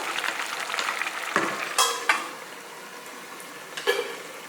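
A spoon stirs fenugreek coconut milk rice in a pan over high flame, giving a few soft scrapes and sharp clinks against the pan above a low, steady sizzle, with no voices.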